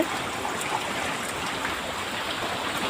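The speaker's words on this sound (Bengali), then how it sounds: "এখনও প্রচুর পরিমাণে বৃষ্টি হচ্ছে হাওয়া হচ্ছে" Heavy rain pours during a storm while strong wind bends the trees, forming a steady, loud wash of hiss and rushing noise with no break and no voices.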